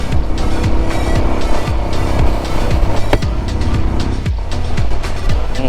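On a high Ladakh mountain road toward Umling La, an engine roars loudly and continuously up close as a motorbike is ridden along, with repeated rising and falling revs as an oncoming bike passes by.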